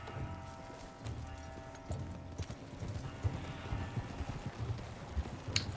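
Rhythmic hoofbeats clip-clop steadily in Red Dead Online, a horse galloping at a moderate distance over a low background rumble, with no voices.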